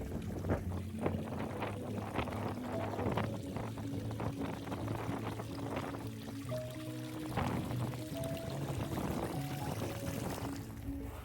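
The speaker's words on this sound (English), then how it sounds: "this water flow just isn't happening properly for this sluice box" Water running through a homemade sluice box, a steady low rushing and pouring wash outdoors with wind buffeting the microphone, no voices over it.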